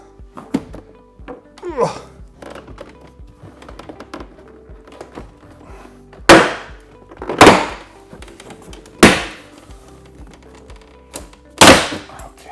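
Four loud, sharp snapping thuds ring out as a Porsche door panel is pried loose from the bottom before being slid up off its top hinge, with quieter scraping and handling noises between them.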